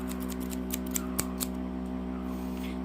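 Scissors cutting open the plastic packaging of a USB Type-C adapter, a quick run of small snips and clicks followed by a few sharper cuts over a steady background hum.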